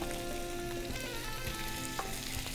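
Pork loin searing in a hot frying pan, a dense continuous sizzle and spatter with a few stirring clicks, close and steady, without any voices.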